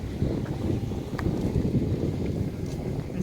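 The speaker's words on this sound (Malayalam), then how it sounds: "ഇവിടെ നല്ല കാറ്റും ഉണ്ട്" Wind at Banasura Sagar dam, an earth dam with speed boating, buffeting the microphone as a loud, continuous low rumble with steady gusting and no talk.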